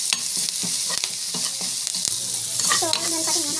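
Spices with turmeric, asafoetida and salt sautéing in a pan: loud close sizzle with repeated scraping stirs of a spoon against the metal, no talking.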